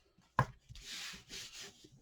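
A blade trims overhanging material along a score line on a Halloween clock decoration: one sharp tick, then a few close, scraping cuts.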